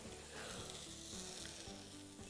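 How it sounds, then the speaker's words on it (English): Steady, close sizzling of a cheese, chutney and onion toastie frying on a hot surface, a continuous crackling hiss with no voices. "You can actually hear it sizzle."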